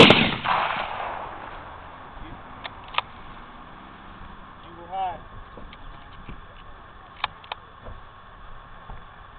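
Gunshots from an SPS .308 hunting rifle outdoors, a loud sharp report at the start followed by fainter distant cracks, with people talking and other sounds under it.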